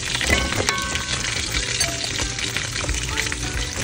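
Salted egg sauce with chili flakes and brown sugar being stirred in a pan for chicken wings, a continuous loud sizzle with scraping stir strokes, no voices.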